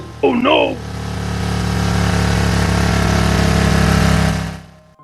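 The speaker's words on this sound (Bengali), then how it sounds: "এ দেখছি বাইকটা চালাতে খুব মজা লাগছে" A cartoon motorbike engine runs as a steady, loud droning hum for about four seconds, with a short high cartoon voice right at the start.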